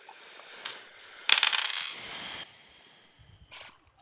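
Dice clatter and tumble across a tabletop during a pirate-themed Dungeons & Dragons game session: a loud rattling burst in the middle, a brief tap before it and a shorter rattle near the end.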